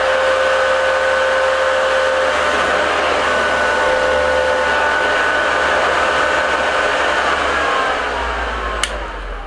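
A Blue Top nail dust collector fan runs steadily at its fourth power setting, a continuous loud whirring hum with a high whine that holds evenly throughout, close by, with no talking.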